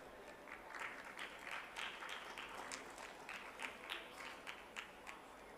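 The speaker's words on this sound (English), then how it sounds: "A big round of applause for the honorable dignitaries on the dais." An audience at an indoor ceremony applauds the dignitaries seated on the dais, a steady wash of many hands clapping that carries on unbroken for several seconds at a moderate distance, with no voices standing out.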